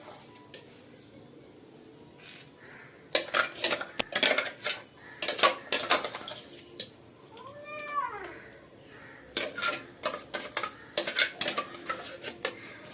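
Bottle gourd paste is stirred in a pot for kheer, with scattered metallic clinks and scraping of a spoon against the pot, quiet stretches between bursts, and a cat meowing clearly partway through.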